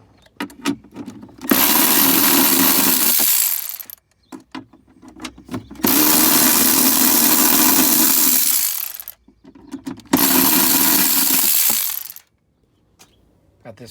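A power tool whirs in three sustained bursts, backing bolts out of a GMT400 GMC Yukon center console, loud and close, with clicks and rattles of handling in between.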